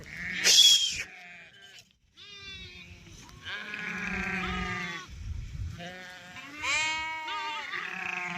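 A flock of village sheep bleats repeatedly while crowding for freshly cut pongam leaves in hot weather; many overlapping calls come close and loud, one after another.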